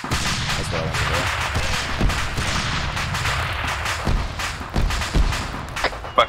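Ammunition cook-off in a military video game: a dense, continuous crackle of rapid pops and thuds with several heavier booms, loud and sustained throughout.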